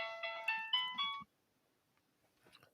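A mobile phone ringtone sounds during a livestreamed conversation, four bright repeating melodic chimes in a quick rising pattern lasting just over a second, then cutting off to near silence with faint distant voice murmurs.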